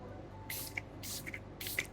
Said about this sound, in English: I'm gonna spray it on my face.